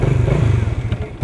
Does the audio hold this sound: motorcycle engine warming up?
yes